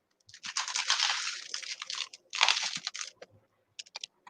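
Crunchy bites into a peanut butter and bacon sandwich, two loud crisp bursts close to the mic followed by a few short crunchy chews, with no talking.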